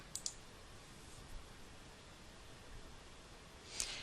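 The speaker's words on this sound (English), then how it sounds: "I'll type in the dates and then click Update." Faint computer mouse clicks sound in a quiet room, a quick pair near the start and a single click near the end over low background hiss.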